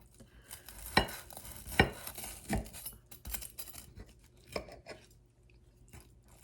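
A knife cuts at an angle through a toasted mac and cheese grilled cheese sandwich, several close crunchy crackles of crisp bread, then softer scraping as the blade finishes the cut.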